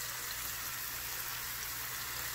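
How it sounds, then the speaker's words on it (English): Braised tilapia sizzling in a pan makes a steady, close, bright hiss that stays even throughout, with no voices over it. "it's nice and sizzling right now"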